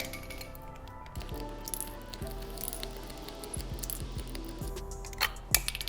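Several sharp clicks and pops from a paint can opener prying the wheel caps off a Tesla Model X, spaced a second or so apart, with a louder snap near the end over steady background music.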